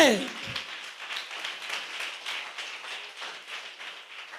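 A church congregation claps with hands raised above their heads, a sharp clap at the start followed by a rhythmic, steady crowd clapping in even beats.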